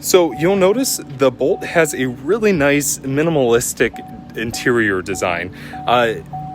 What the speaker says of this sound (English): I apologize about that beeping.